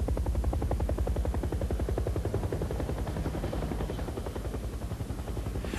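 Military helicopters flying low near the ground over terrain, their rotors beating out a fast, steady thump under a broad engine roar that stays loud and close throughout.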